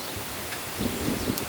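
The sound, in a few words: wind blowing outdoors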